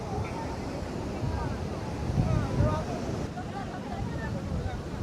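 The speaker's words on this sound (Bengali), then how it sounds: "জোয়ার চলছে আর দেখো উত্তাল সমুদ্র" Rough surf breaks at high tide on Puri beach, a faint wash of waves mixed with gusty wind on the microphone and scattered distant voices.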